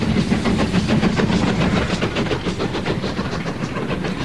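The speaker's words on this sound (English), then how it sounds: "How often do the trains go by, Mr. Cotton?" A train passes by in a radio drama, a loud, steady rumble with rapid clickety-clack wheel beats on the rails that ease slightly toward the end, with no voices.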